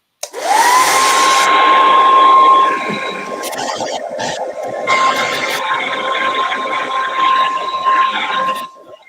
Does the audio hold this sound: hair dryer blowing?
yes